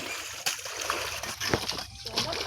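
Dishes are washed by hand in a village pond, with water splashing and sloshing close by in irregular bursts, a few sharper slaps standing out over a soft watery background.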